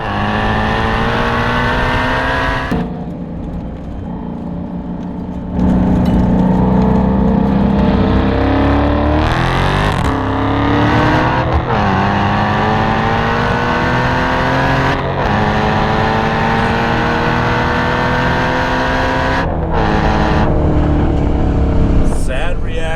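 Supercharged Ford Mustang GT350 with its Voodoo engine street racing a Dodge Hellcat Charger, loud sustained engine roar with rising revs and gear changes throughout, a sharp jump in volume partway in, close and continuous.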